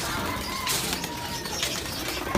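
Racing pigeons at an outdoor loft, soft cooing calls with occasional wing flaps and chirps over a steady ambient background, moderately close and fairly quiet.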